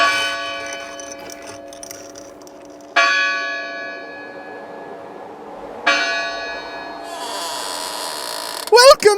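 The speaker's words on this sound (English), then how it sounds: "So, should I just, ring the doorbell?" A video game doorbell: a resonant bell chime strikes twice, each ring decaying slowly with metallic overtones, followed by a burst of clattering noise.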